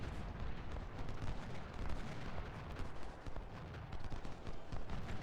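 Dense gunfire and artillery rumble from a Civil War battle video game, musket volleys crackling continuously with low booming underneath, steady and somewhat distant throughout.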